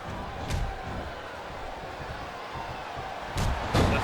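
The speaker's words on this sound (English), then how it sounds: "This capacity crowd is making their opinions heard tonight." Capacity WWE arena crowd at a One Night Stand wrestling event: a steady roar of distant cheering, with a few heavy slam-like thuds on top.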